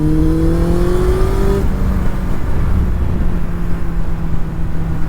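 Yamaha FAZER 1000 motorcycle engine accelerating hard out of a corner, a steady rising note that shifts pitch partway through, loud and close with continuous wind and road rumble underneath.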